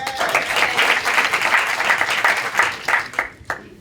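Morning audience at a mayoral candidate forum breaks into applause, a full, steady round of clapping that tapers off into a few last scattered claps near the end.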